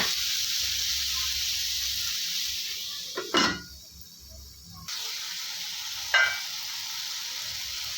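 Tomatoes for a mixed vegetable chutney simmer on a low flame in a covered pan, giving a steady soft hiss broken by two brief clattering knocks and a short quieter gap.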